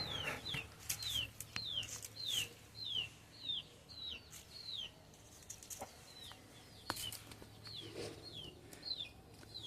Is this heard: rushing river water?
no